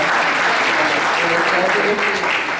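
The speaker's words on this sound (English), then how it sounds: "let's give him a round of applause" Loud, steady applause from a crowd fills the whole stretch without letting up.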